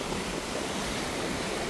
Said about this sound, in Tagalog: Biglang lumakas yung alon.